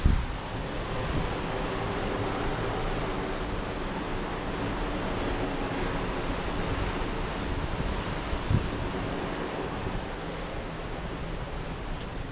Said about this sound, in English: You can just hear the movement of the ocean.